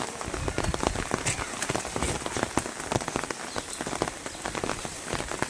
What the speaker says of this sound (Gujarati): શ્રાવણ માસનો પહેલો વરસાદ ચાલુ થઈ ગયો છે